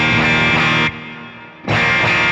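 Electric guitar played through a Fractal AM4 amp block set just at the edge of breakup, with slight grit on sustained strummed chords. Two loud bursts are separated by a brief decaying gap.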